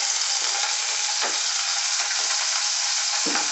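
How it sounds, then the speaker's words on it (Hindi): Green chillies fry in hot oil in a kadhai for crispy chilli potatoes, giving a loud, dense, continuous sizzle up close with a few soft stirring knocks underneath. "हरी मिर्च डाल लेंगे"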